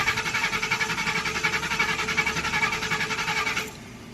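A car engine cranks without starting: a rapid, rhythmic whirring churn goes on for about three and a half seconds, then cuts off abruptly, leaving faint background noise.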